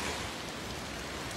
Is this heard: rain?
yes